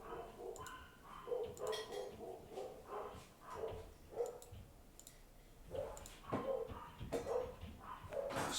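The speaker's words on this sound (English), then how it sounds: "Sorry for the dogs barking." Dogs bark faintly in the background, several short repeated yelps scattered through the stretch, mixed with soft clicking, at a distance and with no speech over them.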